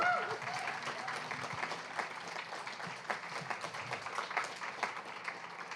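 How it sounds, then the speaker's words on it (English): Audience applause after a poetry reading by Mark Wunderlich, a moderate-sized room of listeners clapping steadily for several seconds at medium distance. "One more big round of applause for Mark Wunderlich."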